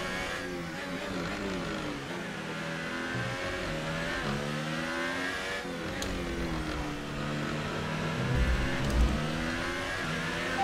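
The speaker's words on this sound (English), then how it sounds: "I can hear his engine getting louder." A following Formula 1 car's engine in the F1 2018 racing game at the Russian Grand Prix, a continuous high revving whine rising and falling through gear changes and growing slightly louder.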